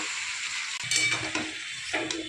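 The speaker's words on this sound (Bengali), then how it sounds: "এবার ভালোভাবে এটা মিশিয়ে নিচ্ছে মামনি" Radish greens seasoned with turmeric and cumin are stirred in a pan, with a steady sizzle and a few scraping strokes of a spatula against the metal, close and moderately loud, with no talking.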